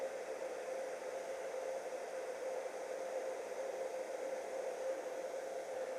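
A hair dryer blows steadily on a Kydex holster to warm it, a constant close whooshing whir with a faint high tone, unchanging for the whole stretch with no talk.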